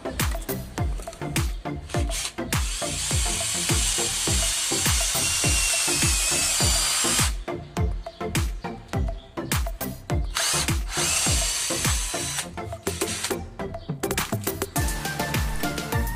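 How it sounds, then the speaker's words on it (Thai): A cordless drill whirs in repeated bursts, with one long sustained run boring into wood, close and loud, separated by short pauses. "เจาะไม้นะครับ"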